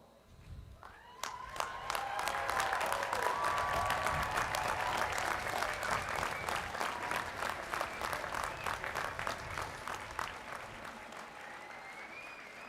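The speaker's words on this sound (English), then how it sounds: "Graduates, please stand and give your supporters and fans a huge round of applause." Sustained applause from a large commencement audience as graduates stand to clap for their supporters, loud and steady for about ten seconds before tapering, with scattered cheers and crowd noise mixed in.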